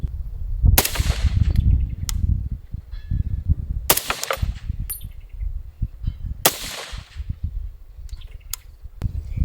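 Three sharp, loud rifle shots from a PSA M110-style rifle ring out a few seconds apart at a silhouette target, each followed by a brief echo and faint clinks, with wind rumbling throughout.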